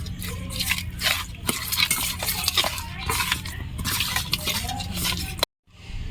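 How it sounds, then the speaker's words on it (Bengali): Mustard oil, salt and turmeric are worked into raw hilsa fish for shorshe ilish, giving steady wet squelching and scraping against a bowl, with faint clinks throughout and an abrupt stop near the end. "মতো লবণ দিয়ে দিলাম, হলুদ, সরষের তেল দিয়ে মাছটাকে ভালো করে মাখিয়ে নেব"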